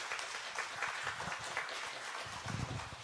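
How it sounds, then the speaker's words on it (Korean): A church congregation at an ordination and retirement service claps in appreciation, a moderate, slightly uneven burst of applause with some voices in it. "다시 한번 우리 수고의 박수에 출발합니다."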